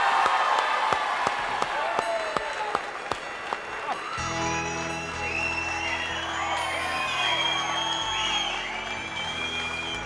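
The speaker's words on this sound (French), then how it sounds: "le temps de recevoir Sophie Favier qui arrive sur vos applaudissements" A television studio audience claps steadily with scattered whoops and cheers at a Christmas special, the applause dense and sustained while festive music swells underneath.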